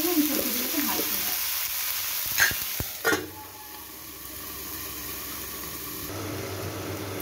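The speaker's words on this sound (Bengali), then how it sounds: "এবার বেশ খানিকক্ষণ ধরে চাপা দিয়ে দিয়ে আমি সবজিগুলোকে ভাজবো।" Mixed vegetables fry in a covered pan with a constant sizzle, broken by a couple of brief clattering knocks partway through.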